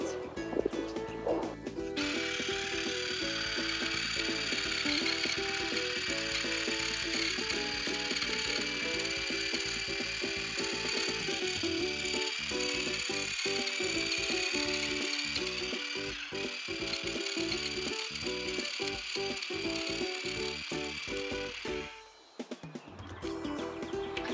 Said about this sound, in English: I'm gonna use the right tool now, hedge trimmer, and just get a nice, even, smooth cut.